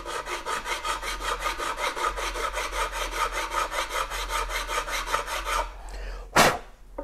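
Guitar frets being levelled with a 12-inch radius block on a Stingray-style bass neck, a steady run of rhythmic back-and-forth abrasive strokes, close and distinct, ending in a short clunk as the block is set down.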